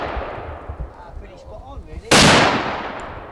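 A single loud rifle shot cracks out during a zeroing test before a wild boar hunt in France, following quiet outdoor ambience with faint voices, and its echo decays over the final second.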